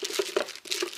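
Tape-sealed plastic packaging around a Kamen Rider Kabuto figure being opened, with a quick series of close crinkling rustles and small tearing sounds in irregular bursts and one brief pause.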